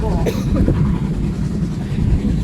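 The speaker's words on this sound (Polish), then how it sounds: "jest to kolej wąskotorowa z lokomotywami o napędzie parowym e, i w zasobach tej kolei jest aż 9 lokomotyw napędzanych parą oraz dwa diesle." A narrow-gauge steam railway train rides along on Rügen, a loud continuous rumble of rolling wheels and carriage noise close by, with brief faint whistling tones near the start.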